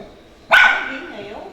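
A single sharp dog bark rings out at an animal shelter, loud and close, then trails off into a short echoing yelp over a quiet background.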